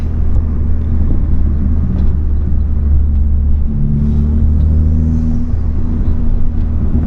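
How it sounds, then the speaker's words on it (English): A turbocharged Ford Focus MK3 engine fitted with a Sidewinder kit, driving along with a steady low rumble and whir that builds slightly midway, heard from inside the car with no talk. "turbo sounds so nice"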